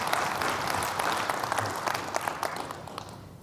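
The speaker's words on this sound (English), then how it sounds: "So give them a round of applause and say thank you." Audience applause fills a networking-strategies presentation hall, a dense, steady wash of many hands clapping that holds at even strength and eases slightly toward the end.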